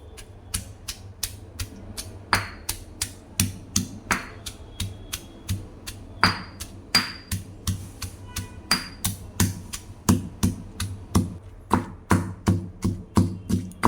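Green chillies, salt, cumin and garlic being pounded for thecha, a steady run of sharp, close thuds repeating for the whole stretch with no talk.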